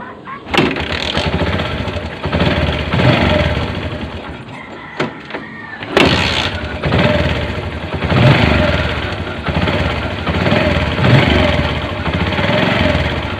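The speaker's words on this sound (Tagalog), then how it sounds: "Para marinig nyo yung problema ng motor." A Bajaj CT 100 motorcycle engine runs steadily and fairly loud throughout, with a rough, uneven idle and revving surges, plus a few clicks and a louder burst about halfway through.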